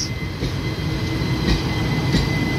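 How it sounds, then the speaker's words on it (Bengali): The Howrah–Kathgodam Bagh Express runs on from Bandel Junction toward Howrah, a steady rumbling roll of coaches with faint periodic clicks of wheels over rail joints and a thin high squeal. "ট্রেনটি ব্যান্ডেল রেলওয়ে জাংশন ছেড়ে হাওড়া রেলওয়ে জাংশন অভিমুখে যাচ্ছে।"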